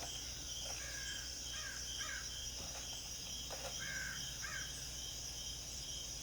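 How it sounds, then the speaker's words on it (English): Several crows cawing at a moderate distance, a scatter of short harsh calls in small groups, over a constant high whine of insects. "I do like the sound of the crows."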